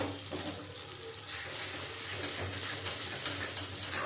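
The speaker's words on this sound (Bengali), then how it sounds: "আমি খুব ভালো করে মশলাটা কষিয়ে নেব।" Spice paste of ground rice, melon seeds and poppy seeds fries in a pan with a soft, steady sizzle, faint and close, while a spatula stirs with light scraping taps.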